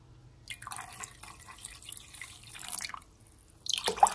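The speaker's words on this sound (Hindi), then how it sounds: "अब पानी मैं इसमें डालूंगी 1 कप" Water poured from a cup into tamarind paste for imli chutney in a home kitchen, a light trickling and dripping pour in short bursts, with a louder splash near the end.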